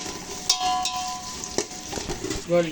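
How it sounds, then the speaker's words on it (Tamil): Sliced onions hit hot oil and are stirred in a pan, a brief crackling sizzle broken by sharp utensil clicks and scrapes, close and fairly quiet, with no talking. "இதுக்கே இதே எண்ணெயில் வெட்டி வச்ச வெங்காயத்தை போட்டுக்கலாம். இப்போ நல்லா மிக்ஸ் பண்ணி விட்டுக்கலாம்."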